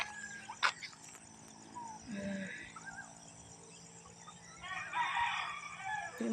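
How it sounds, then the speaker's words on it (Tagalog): Chickens cluck and a rooster crows at a distance in a Filipino village yard, the calls faint and repeated over a quiet rural background. "Doon na madaming manok."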